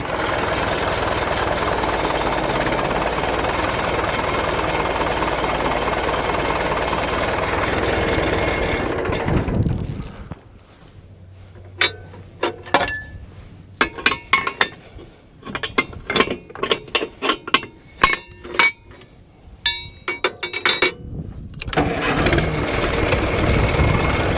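Farmall M tractor fitted with a Cummins 4BT diesel reversing during mowing. A loud, steady engine drone drops away to an irregular run of clanks and ratcheting clicks, then the engine roars back up near the end.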